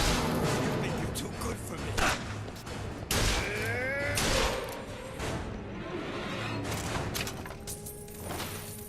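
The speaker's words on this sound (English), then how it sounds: "We're bringing out the hand cannon." Hand cannon gunfire in the game BioShock Infinite: Burial at Sea, several heavy booming shots and impacts spread across the stretch amid game ambience and short whistling effects.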